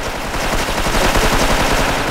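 Rapid automatic gunfire in the GTA video game, a dense continuous rattle of shots close and loud, with no talking over it.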